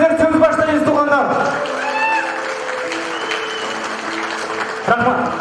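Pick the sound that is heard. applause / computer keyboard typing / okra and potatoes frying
applause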